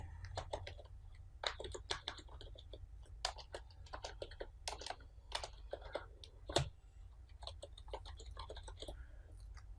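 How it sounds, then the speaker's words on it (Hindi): Rapid, uneven keystrokes on a computer keyboard while text is entered in Filmora X video editing software, close and clear with no talking. "तो यहाँ पे हम टाइप कर लेते हैं"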